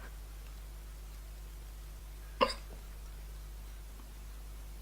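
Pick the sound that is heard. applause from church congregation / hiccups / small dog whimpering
hiccups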